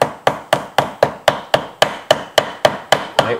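A hammer taps steadily to cut an air compressor gasket, about a dozen sharp, evenly spaced knocks close by, each with a short decaying ring, and no talking.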